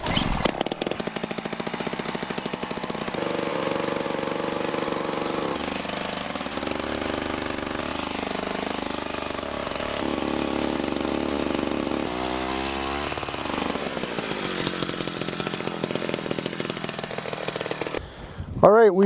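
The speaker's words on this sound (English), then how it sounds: "So I'm just going to get started by drilling this hole." A powered ice auger bores a hole through lake ice while ice fishing, its engine droning loud and steady close by for nearly the whole stretch, pitch shifting as the bit works down, with brief talk mixed in.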